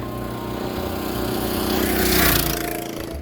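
Engine of a home-built Arctic Cat minibike revving with its clutch engaged during a top speed run, a loud, buzzing small-engine drone that climbs and swells toward the end, with no speech.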